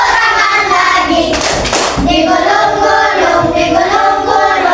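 Rhythmic hand claps keep time in a children's exercise song, sounding loud and close over bright music, with a denser burst of claps partway through.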